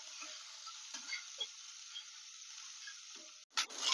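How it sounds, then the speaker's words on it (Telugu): A handful of curry leaves frying in a little oil, heard as a faint, steady hiss with a few soft pops and spatula touches, then a brief louder clatter at the end, with no speech. "ఇంకొక 1/2 టేబుల్ స్పూన్ ఆయిల్ వేసుకుని గుప్పెడు కరివేపాకు వేసుకుని ఫ్రై చేసుకుంటున్నాం"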